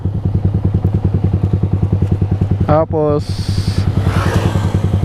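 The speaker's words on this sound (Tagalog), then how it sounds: "start natin yung motor." A Yamaha R15 v3 motorcycle fitted with a 14/50 sprocket idles loud and close with a fast, even engine pulse, then a starter whirs briefly and the engine catches and keeps running; someone speaks briefly over it.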